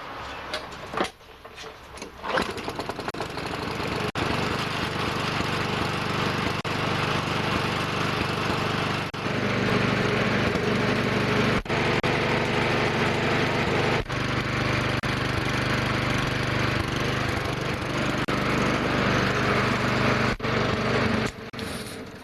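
Lawn mower with a Tecumseh engine running after a first-pull start, a loud, steady droning engine close by with a few brief clunks and shifts in pitch, no talking.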